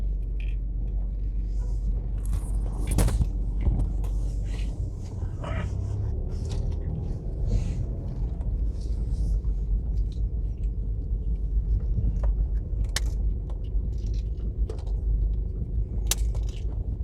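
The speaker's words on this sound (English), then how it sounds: "That truck is doing a delivery for the supermarket." A delivery truck idles with a low, steady engine rumble outside a supermarket at a plaza under construction in Mandeville, Jamaica, with faint clanks and clicks over the continuous drone.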